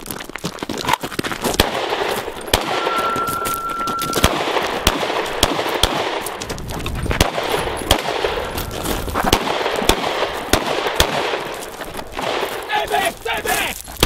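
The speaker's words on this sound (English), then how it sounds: "Set! Six shots." Rapid gunshots ring out in a fast shooting drill, sharp loud cracks in quick bursts and spaced volleys over outdoor background noise, with people talking in between.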